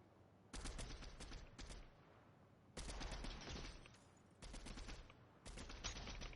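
Fortnite gunfire comes in four sustained automatic bursts, each about a second long, separated by short gaps and played loud with no talk over it.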